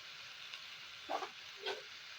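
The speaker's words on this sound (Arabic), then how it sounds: "هتفضلي بقى تقلبي اللحمه دي، البصله مع الفاصوليا مع البصل مع اللحمه كويس جدا" A metal spoon stirs meat, onion and green beans in a pan, giving a faint steady sizzle with two short scraping clinks, close and quiet with no voices.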